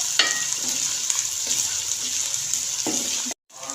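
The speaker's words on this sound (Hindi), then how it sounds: "इनको 1 मिनट हम फ्राई करेंगे ताकि लहसुन की स्मेल भी ख़त्म हो जाए" Ginger garlic paste sizzles steadily in a hot pan for chicken karahi while a spoon scrapes and stirs it, with a few sharper clinks of utensil on metal before a sudden brief cutout.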